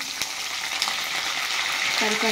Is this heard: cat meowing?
no